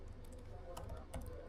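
Typing on a computer keyboard, a handful of quick, irregular key taps, fairly faint and close, over a low background hum.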